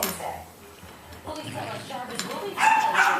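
Puppies bark and yip in short, scattered bursts, growing louder and sharper toward the end. People talk over them, and dishes clink faintly.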